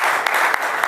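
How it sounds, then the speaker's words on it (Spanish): Brief burst of congregational applause at a Spanish-language church sermon, dense steady clapping under a second long. "Dale un aplauso a Jesús."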